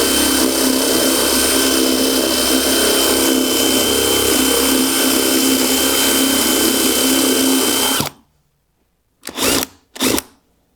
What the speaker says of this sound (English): We have our Walmart Spade Bit 3/4 inch in our drill. We're gonna start our hole on the unfinished side.